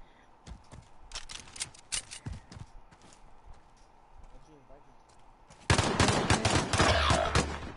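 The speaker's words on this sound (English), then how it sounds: "gunfight again?" Video game gunfight with scattered sharp gunshots and impacts early on, then a loud sustained burst of rapid fire at the end.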